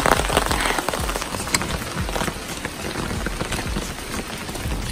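Rain falls steadily at a country dacha, a dense hiss of drops patters on surfaces close by without letup, with no voices.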